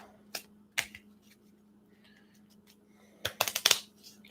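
Tarot cards shuffled up close in a quiet room: a couple of isolated riffs, a pause, then a quick burst of several crisp riffling snaps near the end, with a steady low hum underneath.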